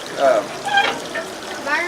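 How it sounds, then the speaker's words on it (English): Green sorghum juice is poured into one end of a pan over a big fire, making a liquid splashing and trickling sound in uneven gurgles, fairly close. "juice that John Henry squeezed over there, that green juice, and we're going to put it in this end of the pan"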